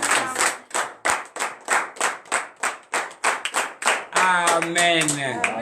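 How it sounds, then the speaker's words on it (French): Worshippers at a morning prayer service in Benin clap in acclamation, about a dozen loud, evenly spaced claps, followed by voices joining in at the end. "Donnons l'acclamation à notre Seigneur."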